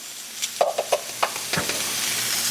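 Onions and jalapeños sizzle in bacon grease as a spatula stirs them, several sharp scrapes and clinks over a bright, steady hiss that swells toward the end, close up with no voices.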